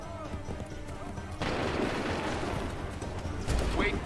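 Musket volley in Assassin's Creed III, a sudden loud burst of massed gunfire that drops into crackling noise and rumbling battlefield commotion, with a second heavy blast near the end.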